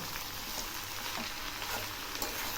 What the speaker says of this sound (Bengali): এই পাতাগুলো খুব ভালো করে ভেজে নেব, যেভাবে শাক ভাজা ঠিক সেই রকম করে ভেজে নেব।